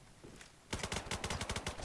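Rapid automatic weapon fire from the video game Ballistic bursts in after a quiet moment, a fast rhythmic string of loud gunshots.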